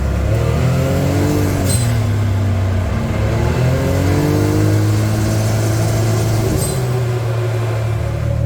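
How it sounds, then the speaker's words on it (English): A Can-Am utility vehicle with stock exhaust idles and revs repeatedly, the exhaust note rising and falling loudly and close by, with no voices. "So this is what the stock Can-Am sounds like."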